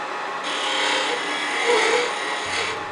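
A tool rasps against the end of a half-inch wooden tenon on a lathe while it is chamfered for joinery, making a short, steady, close scraping sound that stops abruptly, with no talk.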